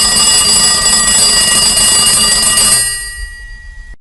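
A telephone rings loudly and continuously as a call is placed, a bright trilling tone that stops abruptly and leaves a brief fading tail.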